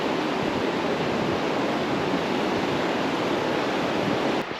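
Steady broadband rush of river rapids on the Salmon River in freezing winter conditions, a continuous loud roar of churning water close by with no break and no voices.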